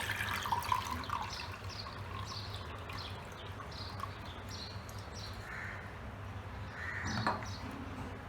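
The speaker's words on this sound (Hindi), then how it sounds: "इसका पानी निकाल लेंगे।" Water trickles and splashes steadily as it drains off washed mung lentils, with a few bird calls faintly in the background.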